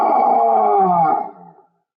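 A person's voice imitates a lion's roar during a children's read-aloud story, one long loud roar that holds steady and then fades out at the end.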